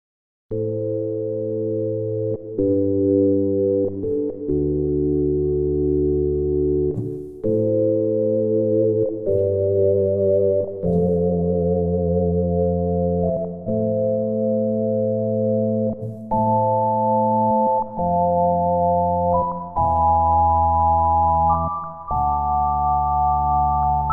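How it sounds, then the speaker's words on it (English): The Induction pad from the Stardust Dreams synth library plays a soft, sustained synth pad in a slow series of held chords, smooth and steady, with no voice. "It's a nice, soft pad sound, that."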